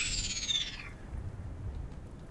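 A fire dragon in Day of Dragons gives a shrill, cat-like screeching call that slides downward and fades after under a second, leaving faint low background rumble.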